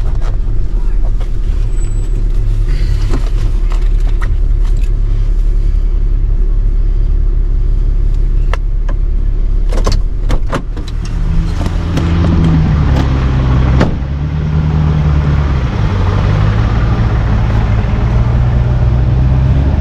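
A truck engine strains to pull a stuck vehicle free, a loud, steady low rumble with rising and falling revving throughout, while people talk faintly nearby.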